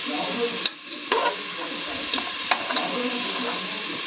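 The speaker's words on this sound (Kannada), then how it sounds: "ಇವಾಗ ಇದು ಚೆನ್ನಾಗಿ ಫ್ರೈ ಮಾಡ್ಕೋಬೇಕು" Egg rice frying in a pan, a soft hiss with scattered clicks and a few sharper knocks of a spatula against the pan, close and moderate.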